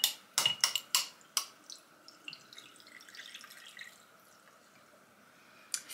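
Liquid poured into a small container for homemade potions and cleaner, opening with a few clattering drips and splashes, then a softer, steady trickle that fades and ends on a final faint tap, close and quiet.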